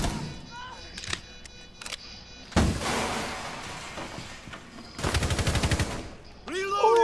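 Gunfire in a competitive ranked shooter match: scattered single shots, then a rapid burst of automatic fire and a final volley, loud and close amid game effects and faint talk.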